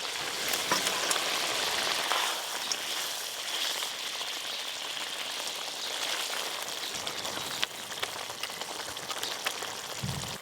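Steady bubbling simmer of a red bhola fish curry gravy in a pan, a continuous soft hiss with faint pops throughout, close and even in level with no talk.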